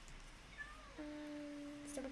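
A cat meows in the video game Minecraft, a faint tonal cry that rises and then holds steady for about a second, quiet behind low game background noise.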